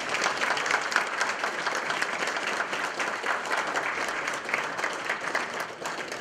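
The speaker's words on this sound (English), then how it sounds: "How about another round of applause for our guest of honor?" Sustained audience applause, a dense wash of clapping from a crowd that holds steady throughout, thinning slightly near the end.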